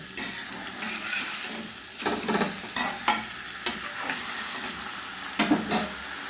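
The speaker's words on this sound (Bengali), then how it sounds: "একটু লাল লাল করে ভেজে নেব।" Paneer fries in a pan, sprinkled with a little sugar and salt as it turns red-brown: a steady sizzle with bursts of louder crackling and spatter, close up and without talk.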